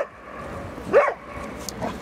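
A stray dog in Gatchina park gives a single short bark at middle distance, followed by a faint yip, against quiet outdoor ambience.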